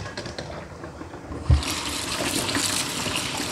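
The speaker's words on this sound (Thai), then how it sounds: "ล้างน้ำไหลผ่านนะคะอันเนี้ย" Tap water runs and splashes while food is rinsed under the flow in a home kitchen, a steady close gushing stream that grows louder and brighter after a brief thump, with no talking.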